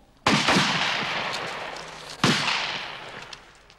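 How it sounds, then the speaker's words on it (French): Two sharp, loud gunshot-like bangs about two seconds apart, each trailing into a long echoing decay, with no talking. "Pardon pour tous ces coups de feu à vos oreilles, Yannick Jadot."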